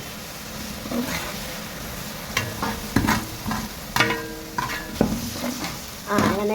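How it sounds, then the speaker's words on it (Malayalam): Green chillies and onions fry in a pan for lemon pickle, a constant sizzle broken by repeated scraping stirs of a spoon against the metal, while a voice briefly murmurs. "നമ്മുടെ പച്ചമുളക് സവാളയൊക്കെ മൂത്ത് വന്നു"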